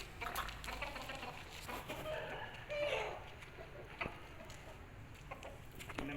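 Aseel fighting roosters cluck in short, irregular bursts at close range, with background noise and some faint talk in the surroundings.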